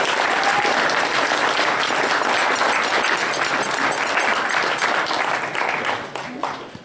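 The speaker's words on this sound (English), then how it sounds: "Give a huge round of applause to our security men." A convention audience at a closing ceremony applauds its security staff with loud, dense clapping that holds steady for several seconds before thinning out at the end.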